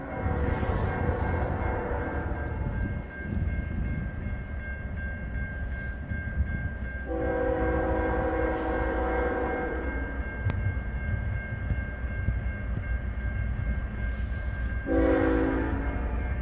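A CN freight train led by locomotive 3870 rumbles past at Ladysmith with a continuous low roar, its horn sounding in long blasts at the start, middle and end.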